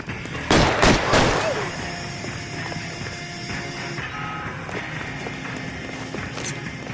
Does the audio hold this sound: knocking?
no